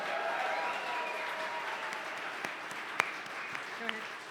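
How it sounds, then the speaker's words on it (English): An audience at a charity gala auction applauds in a steady, moderately distant wash of clapping, with a few sharper individual claps standing out. "Let's give them a big round of applause."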